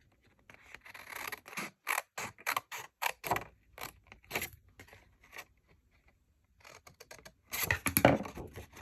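Scissors snip through a long strip of material along scored lines in a quiet room, giving a series of short, close, crisp cuts with brief pauses between them and no talking.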